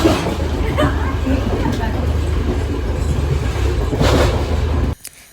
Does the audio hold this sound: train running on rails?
yes